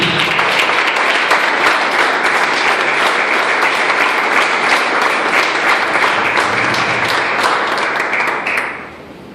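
Loud, dense applause from a church congregation at a Venezuelan apostolic youth service, a continuous roar of many clapping hands that holds steady for several seconds and then cuts off abruptly near the end.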